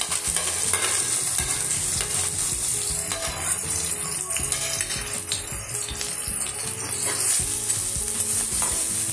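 Chopped green chillies and onion, with ginger, fry in a pan for palak paneer, giving a loud, continuous sizzle with busy clattering stirring throughout.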